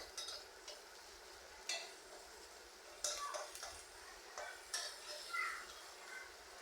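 Chopped onion and green chili frying in oil for an ash gourd and fish roe bhaji give a faint, steady sizzle, broken by occasional light clicks and taps of a utensil against the pan.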